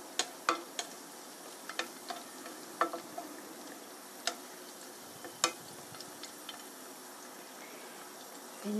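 Garlic frying in a pan until golden for shiitake mushroom spaghetti, giving a quiet, steady sizzle broken by scattered sharp ticks and pops, with no talk over it.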